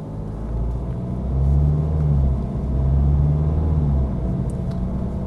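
A 2014 BMW 328d diesel engine rumbles low and steady while driving, with the drone rising and easing a little as the car moves along.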